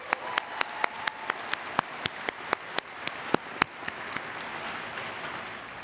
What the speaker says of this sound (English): let's also give a round of applause to both the faculty and the staff who I'm here representing today